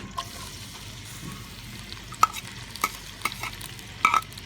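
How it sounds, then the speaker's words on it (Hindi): Sliced onions fry lightly in ghee in a pan, a soft steady sizzle with a few sharp stirring clicks and scrapes toward the end, close and fairly quiet. "अब इसको हम हल्का सा फ्राई करेंगे"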